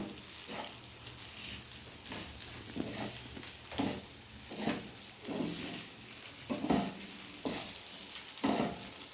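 Flattened rice pulao with curry leaves is stirred in a pan, giving soft rhythmic scraping strokes over a faint, quiet sizzle.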